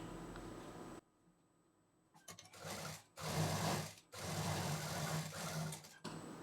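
A sewing machine stitches fabric pieces together while making a potli bag, running in several steady bursts separated by brief pauses, close and fairly loud with no talking.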